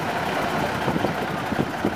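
A 1979–1980 MAN tractor unit lorry in BRS livery at a country festival, its heavy diesel engine running with a rough, steady, close rumble and no talk over it.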